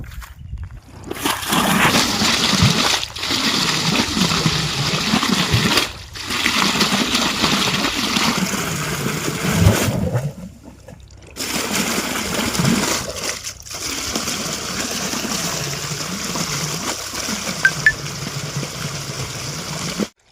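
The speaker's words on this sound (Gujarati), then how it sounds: "આપણે પાણી ચાલુ થઈ ગયું છે, પાણી આવી ગયું છે ખેતરમાં આજે" Canal water flows into a millet field, a loud close gushing and splashing stream that briefly drops out at a few points before resuming.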